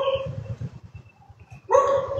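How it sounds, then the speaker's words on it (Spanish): A dog barks somewhere away from the microphone at a cemetery, with a few short, rough barks at the start and a louder, sharper bark near the end over quiet outdoor background. "Ah, el perro que está allá."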